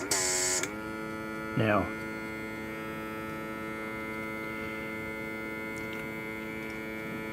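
An Angelus airbrush cleaning pot switches on and runs with a steady electric hum, preceded by a short louder burst at the start and a brief mid-clip surge, with a single word spoken over it.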